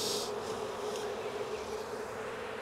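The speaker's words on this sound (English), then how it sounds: "There's a lot of bees in here for a swarm." A big swarm of honey bees drones steadily in a hive box during a late May capture in Jacksonville, Florida, its dense, even buzz holding close and continuous throughout with no voices.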